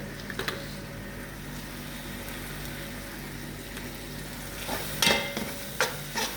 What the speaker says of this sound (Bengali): এই যে গ্রেভিটা আস্তে আস্তে ঘন হইতে আছে,